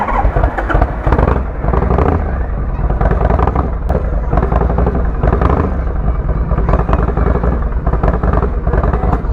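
Harley-Davidson Shovelhead motorcycle riding through an upscale Dallas neighborhood, its loud engine rumbling steadily and continuously up close with a dense, throbbing low drone and occasional clatter.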